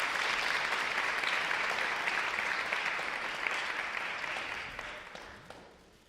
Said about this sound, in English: I'm going to ask for another round of applause to the team at the Isabel